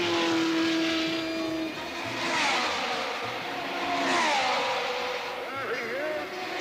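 Race cars at the 1965 Indianapolis 500, with Clark, Jones and Andretti running together near the finish: a loud, sustained engine roar whose pitch swoops and falls as cars pass, with a steady whine early on and a narrator talking throughout.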